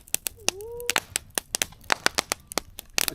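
Crackly bark catches fire in a campfire, giving off a rapid, irregular run of sharp, close pops and snaps. A brief voice or whistle-like tone rises once among them.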